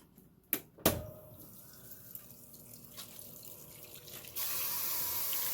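After a couple of clicks and soft knocks, water runs steadily into an 8-gallon hot water tank, a continuous close hiss that holds to the end.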